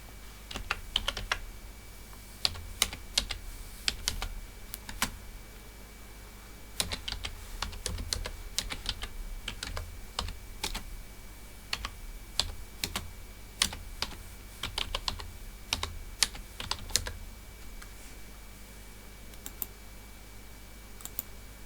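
Steady typing on a computer keyboard while a chart title is entered in Excel, quick irregular key clicks heard close and fairly quiet for the whole stretch, with no voices.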